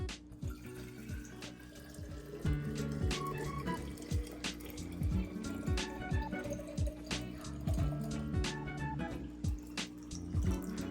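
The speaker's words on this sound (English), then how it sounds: "let's go ahead and put the water in the mason jar" Dechlorinated water pours into a glass mason jar, a continuous close splashing and trickling with dripping and bubbling textures over about eleven seconds, with no voices.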